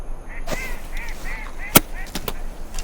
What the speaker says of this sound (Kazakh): Бір жақта құстар кетіп бара жатыр.